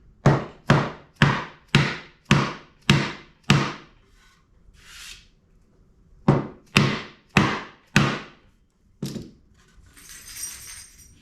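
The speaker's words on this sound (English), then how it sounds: "apparently you just gotta hammer it together" Sharp hammer blows strike a wooden beehive honey super box in quick, regular bursts of about seven, pause, then resume with a few more hits, close and loud.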